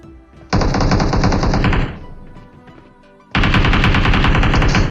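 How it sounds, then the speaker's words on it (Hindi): PUBG Mobile (BGMI) gunfire: two long, loud bursts of sustained automatic fire, the first lasting over a second and the second running to the end, with a quieter stretch of scattered shots and game noise between them. "इतनी सारी फायरिंग दी उसके बाद भी नॉकआउट नहीं हो रहा था ये"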